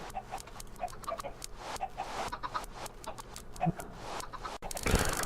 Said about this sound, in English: Took the liberty of adding a few extra chickens in here, so we're closer to about 600 right now.